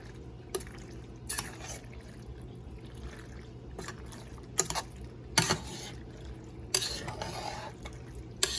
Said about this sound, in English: Just mix that pasta in there.